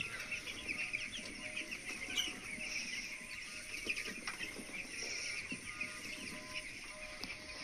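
Chickens on a small farm cluck and call in a steady, moderately distant chorus while feeding, with faint bird chatter throughout and no talking.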